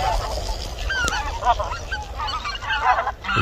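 A flock of large geese, each about one and a half to two kilograms, honks repeatedly at close range outdoors in Korea, with overlapping calls rising and falling over a low background rumble.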